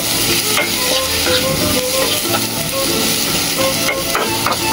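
Fish and drumsticks being stirred with chili powder in a hot pan, a steady scraping and light sizzling that runs continuously and close.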